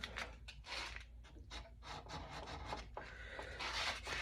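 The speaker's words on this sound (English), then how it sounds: "wet sanding with a lubricant" A steel barrel crown is wet sanded with lubricant, giving soft, faint back-and-forth rubbing strokes in an irregular rhythm, close up and quiet.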